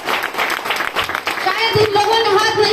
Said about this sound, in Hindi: सर के लिए भी एक जोरदार ताली बजा दीजिए